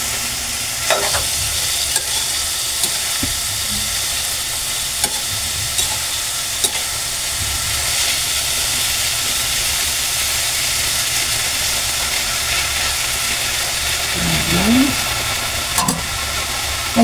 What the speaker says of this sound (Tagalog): Lagay na po natin yung ating ginayat na ampalaya.